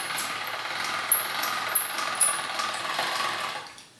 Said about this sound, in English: feed the dough through the machine.